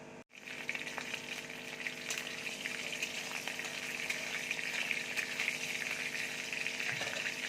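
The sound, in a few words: whole cumin seeds sizzling in hot oil in a wok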